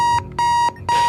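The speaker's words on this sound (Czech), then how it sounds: "Budík!" Alarm clock in the video game Keep Talking and Nobody Explodes rings in loud electronic beeps, three long pulses with short gaps between them, close and clear with no talk over it.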